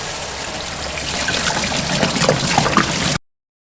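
Water trickles steadily from pinhole leaks in a rusty Suzuki TS185 motorcycle gas tank, a close, continuous dribbling wash that stops abruptly near the end.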